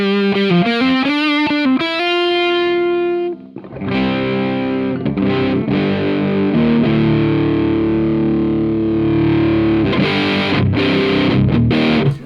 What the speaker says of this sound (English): I'm looking for good, clean drive sounds from where you can then carry on.